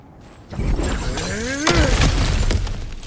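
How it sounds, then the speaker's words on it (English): A crash of something smashed apart in God of War Ragnarok, a sharp shattering burst about halfway through, followed by scattering debris over steady game ambience and a low droning tone. "Ah, back to smashing through things for fun and profit."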